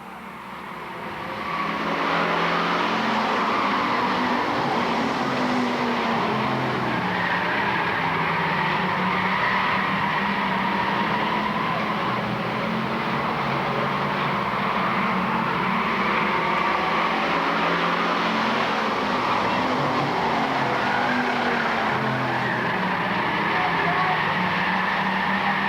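Bomber stock cars roar around the Lakeport Speedway oval in a heat race, a continuous dense engine drone with shifting revs from a crowded field, steady and loud throughout with a public-address voice faintly mixed in.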